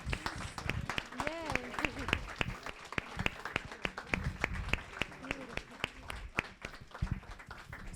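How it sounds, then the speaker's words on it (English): An audience applauds performers after African-American history monologues with a run of clapping and a few brief cheering voices. "please give them a round of applause of appreciation"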